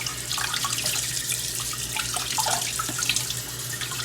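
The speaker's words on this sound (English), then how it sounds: "Let me rinse it off, making sure it's nice and clean." Pork ribs rinsed under a running kitchen tap, a steady close splash of water over a faint low hum, with no talking.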